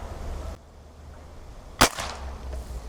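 A single sharp crack of a Hatsan Zada 5.5 mm air rifle being fired, loud and close, with a short ring afterwards over quiet outdoor background.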